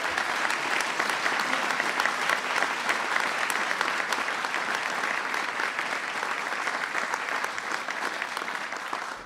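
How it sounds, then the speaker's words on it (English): An audience at a White House Diwali celebration applauds, dense sustained clapping that holds steady across the whole stretch, fairly close and with no voices over it. "Please give him a big round of applause."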